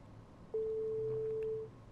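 A single sustained electronic phone tone sounds for about a second in Life is Strange 2, clean and steady over a quiet background hum.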